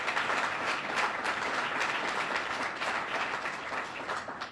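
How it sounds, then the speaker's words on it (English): A crowd applauds steadily throughout, dense clapping at an even level from start to finish. "That deserves a round of applause"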